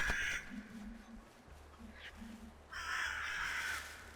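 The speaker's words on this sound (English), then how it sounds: "that's just a flock of birds" Several harsh bird calls burst out at the start and again near the end, with quieter chatter between, over steady outdoor background.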